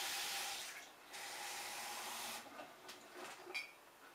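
Cold water runs from a kitchen tap in a quiet, steady hiss for about two seconds, then falls to softer, uneven trickles and splashes.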